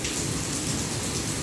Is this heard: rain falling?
yes